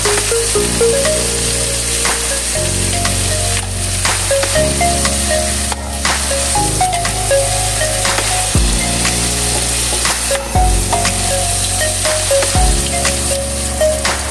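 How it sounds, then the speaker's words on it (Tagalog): Chicken liver fries in a pan beside sautéed garlic and onion, a loud steady sizzle with crackling pops that runs on without a break, close by, while background music plays. "at iprito ang atay"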